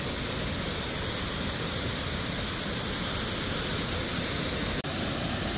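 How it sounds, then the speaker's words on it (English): Steady, even rushing of a waterfall, a constant broad hiss of falling water with no breaks, heard at a moderate distance. "You'll be able to hear a waterfall right next to it."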